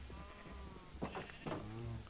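Sheep in the Minecraft world give several short wavering bleats, one near the start and two louder ones about half a second apart toward the end, over a steady low game background with no talking.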